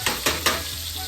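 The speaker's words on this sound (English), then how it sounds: "we're going to use the oil to cook them" Shrimp frying in oil, heard as a brief sizzle broken by three quick bursts of stirring or spattering close by.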